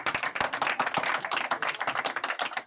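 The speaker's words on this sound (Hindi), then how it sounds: "चलिए थोड़ा सा ताली मार देंगे।" An audience at a ceremony honouring a Bihar board class 10 topper claps in a brisk burst of many hands, close and steady for a few seconds, with no talk over it.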